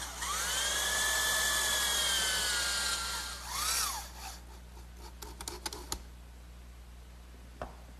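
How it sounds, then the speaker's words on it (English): A power drill whines at high speed as it drives a drywall screw into a wooden rocking horse side panel, the pitch sliding down as the screw seats, followed by scattered knocks and handling of the workpiece. "Before I drill any more, I'll fasten this with a drywall screw."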